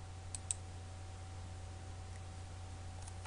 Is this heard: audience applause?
no